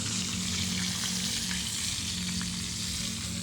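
Ulam frying in a pan, a dense, continuous sizzle and crackle up close with a low steady hum beneath and occasional stirring clicks.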